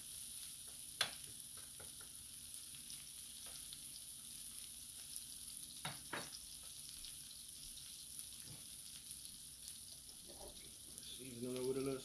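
Onions for a Philly cheesesteak sauté in a pan, a faint continuous sizzle with occasional sharp clicks of a spatula, quiet and close, no talk.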